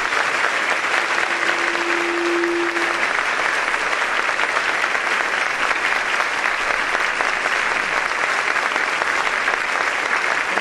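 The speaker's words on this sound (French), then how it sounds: "Nous allons les saluer avec beaucoup de tendresse et avec un grand applaudissement" A church congregation at a French-language Bible study service breaks into long, sustained applause, a steady, dense roar of many hands clapping at even loudness without pause, briefly joined by a faint tone early on.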